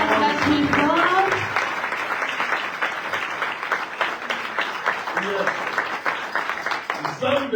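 A church congregation applauds steadily during a worship service, a sustained wash of hand claps with voices speaking and calling out over it throughout.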